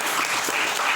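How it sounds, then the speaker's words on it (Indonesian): A brief, loud burst of audience clapping fills a hall during a youth organisation's channel-launch gathering in Kersana, dense and close, with no talk over it. "Kita tepuk tangan dulu."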